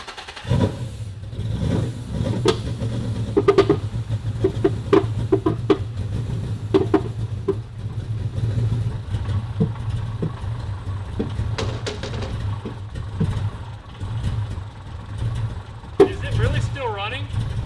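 A Boss 302 Mustang engine with side exhaust idles roughly and unevenly at very low revs, a low steady rumble with sputters and occasional clicks, close by, with voices briefly audible.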